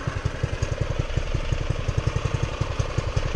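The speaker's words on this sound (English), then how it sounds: "turn on the engine, and might have to use a start." A small engine on a DIY go kart runs just after starting, a loud, close, rapid even putter of firing pulses with no talk over it.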